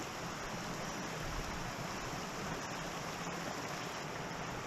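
Creek water flowing steadily near a waterfall in a wooded hollow, a continuous broadband rush that stays close and even throughout with no voices.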